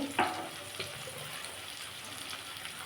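Cumin, chilli and turmeric with salt sauté in a pan for a Bengali radish curry, a soft steady sizzle with a few clinks and stirring scrapes near the start.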